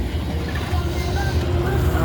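An earth-moving machine runs on a soil-filling site with a tractor standing by, giving a steady low engine rumble and faint mechanical whine under a voice talking close by.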